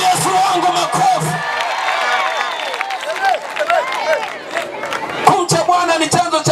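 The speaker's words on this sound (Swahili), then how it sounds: "Pigia Yesu wangu makofi." A church congregation clapping and cheering together, a loud crowd of hands and voices whooping, with shouted voices mixed in throughout.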